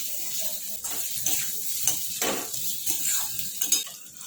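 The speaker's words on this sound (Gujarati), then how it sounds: "કટ કરેલા બટાકા એડ કરીશું પેલા બટાકા એડ કરીશું કટ કરેલા મિક્સ કરી લઈશું" Cut potatoes stirred and mixed in a pan for a dry farali potato and sweet potato dish, with a soft sizzle and a series of scraping, tossing strokes, close and moderately loud.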